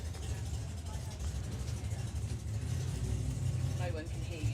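A drag racing car's engine rumbles low and steady at a drag racing event, heard at a distance beneath commentators talking over it throughout.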